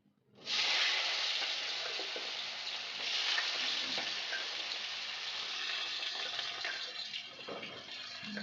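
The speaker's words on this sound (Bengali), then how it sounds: "এবার আমি কড়াইটা গরম হয়ে গেছে এবার আলুটা দিয়ে দেবো আলুটা একটু ভাজা করবো" Potatoes hit a hot kadai and fry with a loud, close sizzle that bursts in suddenly and then holds steady, crackling and hissing continuously, with no voices over it.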